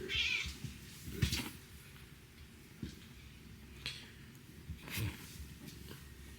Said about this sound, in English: Someday I'm gonna count how many times Sammy meows in a day